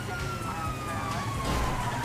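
A police car siren wails in a GTA video game during a jewel store robbery chase, a steady rising and falling tone heard over ongoing game engine noise throughout.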